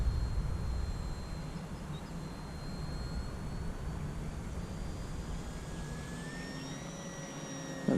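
A Parkzone ArtiZan RC plane with a 1100mm wingspan, running on 3S packs, flies at full throttle with a steady motor and propeller whine. The whine rises and falls in pitch as the plane passes, set against a constant outdoor rumble.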